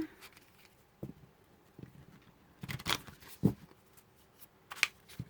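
Oracle cards handled by hand, with soft scattered riffles, slides and taps of card stock, and a few louder flicks as cards are drawn and flipped, close and with no talk.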